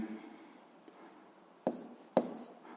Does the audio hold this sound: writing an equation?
yes